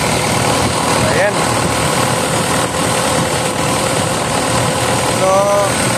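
A Kobelco SK220-10 excavator engine runs at a steady idle after a fuel injector repair, its constant rumble close and loud throughout, with a voice talking over it.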